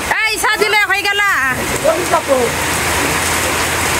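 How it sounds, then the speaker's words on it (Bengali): Rain falling outdoors makes a steady broadband hiss that continues throughout, with people talking over it at the start and a few faint voices later. "বৃষ্টি নামছে দেখাস না"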